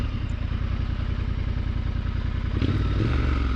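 A Triumph Scrambler 1200 motorcycle on a dirt trail: a steady loud rumbling engine with clatter, then a lurch and change near the end as it stalls.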